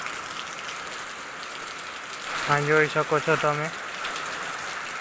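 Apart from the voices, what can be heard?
heavy rain falling on village rooftops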